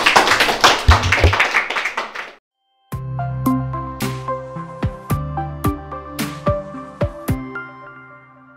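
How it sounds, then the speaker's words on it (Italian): Two students in a Capalbio first-year middle school class get a round of applause: a dense patch of clapping for about two seconds, a brief pause, then a run of sharp, evenly spaced tapping hits with ringing tones. "fare un applauso anche a voi due"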